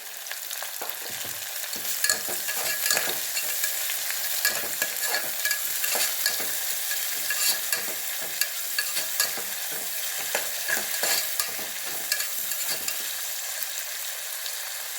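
Mushrooms with salt for mushroom biryani sauté in a pan, a continuous bright sizzle with frequent scraping and stirring knocks from a utensil, close and steady throughout with no voices.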